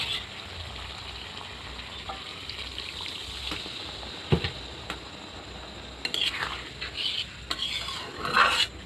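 Meat sizzles in a pot after its oil separates and hot water goes in, a low bubbling hiss with scattered spoon-on-metal scrapes and clinks, busier stirring bursts toward the end, close and fairly quiet.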